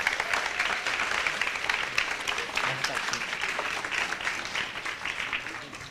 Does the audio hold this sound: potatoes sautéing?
no